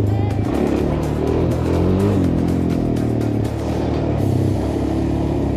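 A Suzuki LTZ 400 quad engine runs hard off-road on a rough track, a loud steady droning roar with rising and falling revs and no pause.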